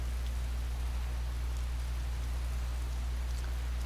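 Rain falls in the video game Skyrim, a soft, even patter that stays constant and fairly quiet over a low steady hum, with no voices.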